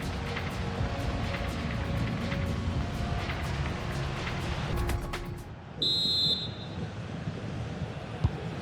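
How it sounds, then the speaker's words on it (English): A referee's whistle restarts play in the FC 26 football game during a Spain vs France World Cup final match: one sharp, shrill blast of about half a second over a steady roar of stadium crowd noise. "So the referee's whistle as the action is restarted."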